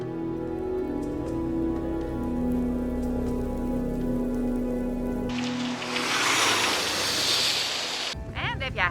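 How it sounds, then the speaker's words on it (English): Heavy rain pours down in an animated cartoon episode, a loud, dense hiss that bursts in partway through after a tonal musical passage and cuts off near the end. "it's coming down in buckets again today. It's raining."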